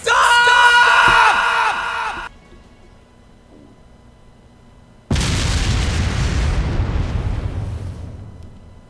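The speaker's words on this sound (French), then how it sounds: "Railway guns. Les canons." A burst of shrill yelling cuts off, then after a quiet pause a heavy railway gun boom erupts and rumbles away slowly, in the video game Legend of Heroes: Trails of Cold Steel.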